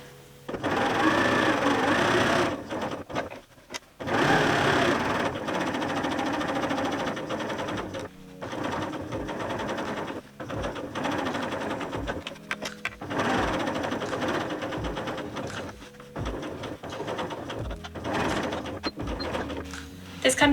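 A sewing machine stitches fabric for a reverse appliqué heart cushion cover, running in long bursts of rapid mechanical chatter with short pauses between runs, close and loud.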